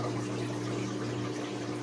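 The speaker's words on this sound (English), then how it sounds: "if you have a pump like this running constantly" A pool pump running constantly to move water for a koi and goldfish pond, heard as a steady low mechanical hum under a continuous rush of flowing water, close and even throughout.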